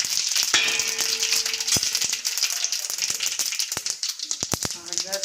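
Mustard seeds, sesame and curry leaves sizzling and crackling in hot oil, a dense steady hiss with sharp popping bursts, close and loud, while a voice talks over it.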